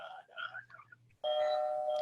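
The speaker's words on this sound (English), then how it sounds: "Whose doorbell's ringing? It's mine." A household doorbell rings with a steady sustained chime tone, loud and close, following a stretch of people talking.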